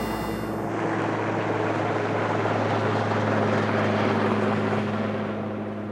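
A helicopter holds a steady hover nearby, with a constant rotor drone and whine that stays loud and even throughout, no voices.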